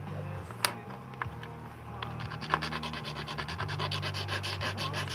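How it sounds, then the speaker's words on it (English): Metal file rasping down a nub on a jack, close and rough, starting with a few scattered scrapes then settling into steady rhythmic back-and-forth strokes, no voices. "the one nub on this jack interferes with the screen a little bit, so I'm going to file it down a little"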